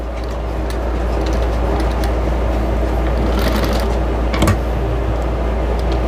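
Sewing machine stitching a chicken-shaped potholder, running steadily with a constant low mechanical hum and rapid needle clatter throughout, loud and close, with a brief thump near the end.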